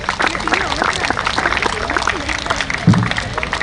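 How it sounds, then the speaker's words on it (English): A crowd claps steadily throughout, a dense wash of applause with voices rising faintly underneath, at a sports cup final award ceremony. "A big round of applause to individual performers."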